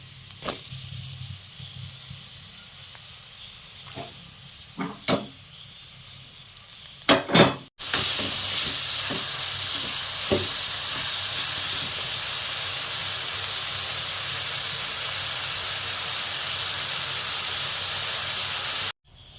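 Onions sauté in a pan for Kerala-style prawn biryani. A few scattered clicks and clatters come first, then a loud, continuous, close hiss of frying that holds steady before cutting off abruptly.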